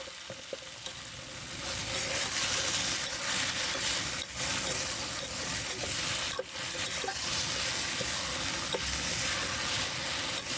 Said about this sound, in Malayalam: ഉള്ളി കുറച്ച് നന്നായിട്ട് മൂത്ത് വരുന്നുണ്ട്.